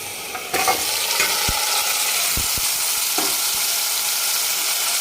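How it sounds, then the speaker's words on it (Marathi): Mutton coated with turmeric and salt drops into oil with browned onions and bursts into a loud sizzle. The frying then hisses steadily, with a few sharp knocks of a spoon stirring against the pan. "आता या वेळेला आपण हळद मीठ लावलेलं जे मटण आहे ते आपण टाकून घेऊ"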